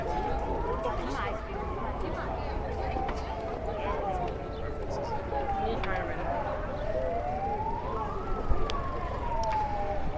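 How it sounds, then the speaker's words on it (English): An emergency vehicle siren wails on a Washington, DC street, its tone sweeping up and down steadily for the whole stretch over a dense bed of traffic and crowd noise, with voices in the background. "I was hearing the siren"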